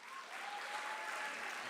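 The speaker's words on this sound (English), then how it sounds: "You should all give yourself a round of applause." An audience at an arts board meeting breaks into steady, even applause, a continuous soft roar of many hands clapping at a moderate distance without a break.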